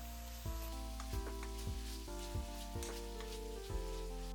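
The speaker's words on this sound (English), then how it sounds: "I add ground pork and stir-fry it until the meat is cooked" Ground pork stir-frying in a pan, a steady sizzle with periodic scraping strokes roughly every half second as the meat is broken up, close and moderately loud; a steady musical tone runs underneath throughout.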